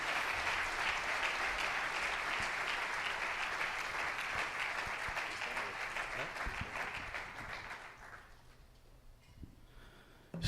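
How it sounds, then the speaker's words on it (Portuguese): A church congregation applauds in praise, steady dense clapping that tapers off near the end into a quieter room with a few scattered sounds. "Aplauda ao Senhor até ele chegar aqui."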